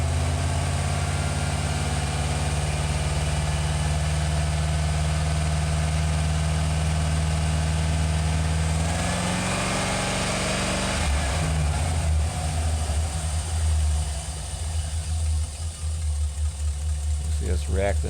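Chevy/GMC 2500/3500 cargo van engine idling steadily and close, a continuous low hum that shifts in tone midway as the idle is raised, with faint talk over it.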